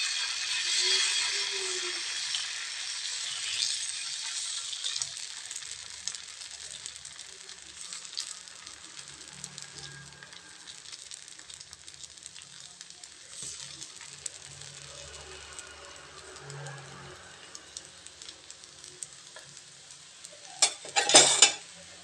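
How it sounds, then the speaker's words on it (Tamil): Dosa batter sizzling steadily on a hot tawa griddle, a soft continuous hiss with a few faint scrapes and a brief clatter near the end, no voices. "மாவு எடுத்து ஊற்றிக்கலாங்க"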